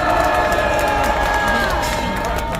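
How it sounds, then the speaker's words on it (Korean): An outdoor rally crowd at Gwanghwamun, Seoul claps and cheers in a dense, continuous wash of applause, with scattered voices mixed in. "박수 부탁합니다."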